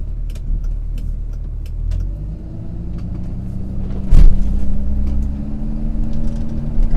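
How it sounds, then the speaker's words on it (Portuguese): A Dodge Ram 2500 pickup from 2008, with a Cummins inline-six turbo diesel of about 330 horsepower, idles and rumbles steadily at close range, with a brief louder knock partway through and a low drone throughout. "tem um motor 6 cilindros em linha, turbo diesel da Cummins, cerca de 330 cavalos"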